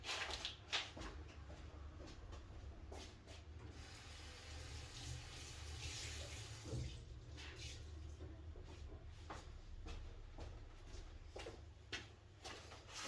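Tap water running over a cloth at a woodworking bench, a faint steady trickle and splash with a few soft handling knocks, recorded quietly.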